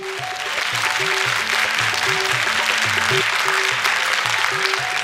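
At a prize-giving ceremony in Pakistan, a crowd applauds a girl who placed third in a sewing competition, giving loud, dense, continuous clapping over steady background music.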